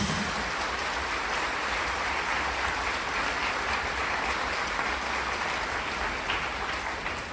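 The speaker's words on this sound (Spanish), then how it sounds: "Fuerte el aplauso al Señor Jesús." Sustained applause from a large crowd at a church service, steady and loud from start to finish with no voices standing out.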